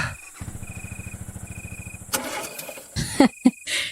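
An aging motorcycle engine sputters and chugs in a rapid steady putter, then coughs, catches unevenly and dies away into short bursts, close and fairly loud.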